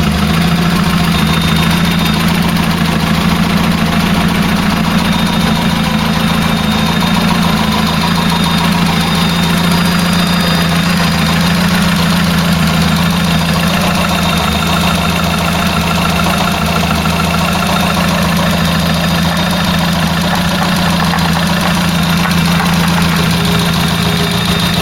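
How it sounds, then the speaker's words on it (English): Ford Cortina GXL engine, freshly rebuilt and pre-warmed, running at a steady idle with a continuous low hum and mechanical clatter, loud and close throughout with no talking. "And engine start."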